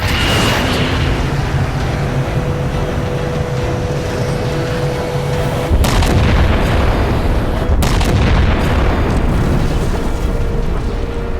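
In the Halo 4 mission "Reclaimer," a targeted weapon fires and sets off a massive, roaring explosion that rumbles continuously, with heavier blasts surging partway through.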